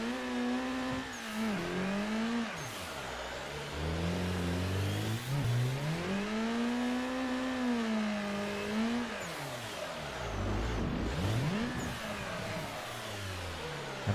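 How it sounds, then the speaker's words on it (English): Drift car engine in Assetto Corsa, revving up and down repeatedly with long rising and falling sweeps, loud and close throughout with no talk. "I don't like the sound of this car."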